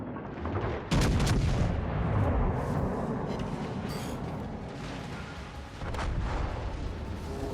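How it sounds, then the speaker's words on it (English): Heavy warship artillery from World of Warships Legends, a deep booming salvo striking near one second and rumbling on, with a further blast around six seconds over a continuous low mechanical din, no talk. "Concentrate fire on the enemy warship."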